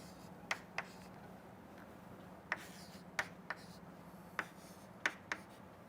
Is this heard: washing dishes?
no